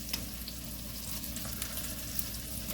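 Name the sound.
steak searing in a pan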